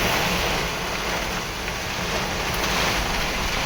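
Heavy downpour with strong wind during a storm in Chobari village, a loud, dense, constant roar of rain and gusts with no voices.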